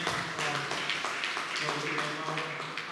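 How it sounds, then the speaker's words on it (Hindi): A congregation at a Sunday evening Hindi church service claps together in a steady run of sharp hand claps, with voices talking and a tonal hum underneath. "क्यों ना हम परमेश्वर के लिए जोरदार ताली बजाते हैं"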